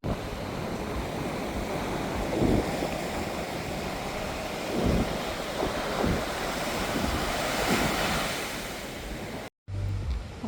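Ocean waves on a beach beside a seaside cafe in Galle, Sri Lanka, a constant roar of surf with periodic swells of breaking water, mixed with wind buffeting the microphone, no talk, cutting off briefly near the end.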